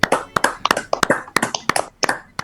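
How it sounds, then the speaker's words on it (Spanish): Irregular, close hand clapping from a small audience applauding story authors and prize winners at a children's story awards ceremony, loose and uneven for a few seconds. "un aplauso para todos los que compusieron y naturalmente a los premiados"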